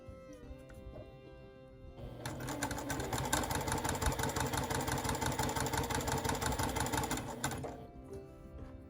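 Sewing machine stitching a daisy quilt on the bias, a quiet whir that builds into a steady rapid mechanical chatter for about five seconds, then slows and stops, close and alone.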